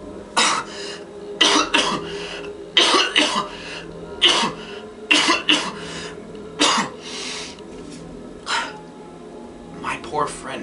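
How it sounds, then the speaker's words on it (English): Harsh, repeated coughing fits in bursts of two and three, close and loud, with throat clearing and raspy breaths between them in a dramatic story reading. "How long have you had that cough?"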